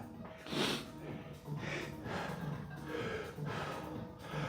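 Loud, heavy rhythmic breaths huff in and out about once a second during a push-day gym workout, harsh and close to the microphone.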